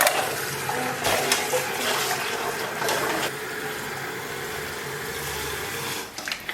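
Cold tap water runs steadily into a container over boiled eggs in a home kitchen, a continuous splashing rush at moderate loudness that thins slightly near the end, with no talking.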